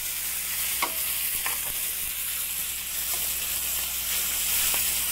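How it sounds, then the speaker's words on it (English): Red snapper fillet sears in a hot pan with a steady, even sizzle and crackle, a few faint utensil taps breaking the constant hiss. "I'm just going to get a quick sear on the outside edge of that fish"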